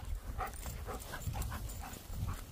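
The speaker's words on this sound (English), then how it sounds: "Puppy dog." Staffie and German Shepherd puppies pant and whimper close by, a steady stream of breathy huffs with faint whining, no talking.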